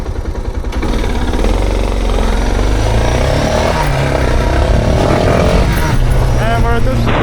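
A Suzuki DR650 motorcycle engine runs loud and steady on the road, with wind rumble throughout and a rider talking over it.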